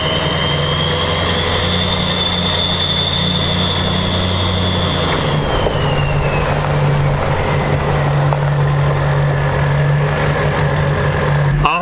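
A Hummer H1 with a swapped LBZ Duramax diesel drives along, its engine drone and road noise steady and loud from inside the cabin, with a whine that falls in pitch midway.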